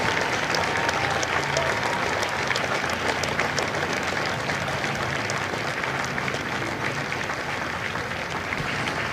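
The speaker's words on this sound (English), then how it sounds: "Ladies and gentlemen, a round of applause for their dedicated service to Corps and country." Audience at a Marine recruit graduation ceremony at MCRD San Diego applauds steadily throughout, a dense, even wash of many hands clapping at close range with no pauses.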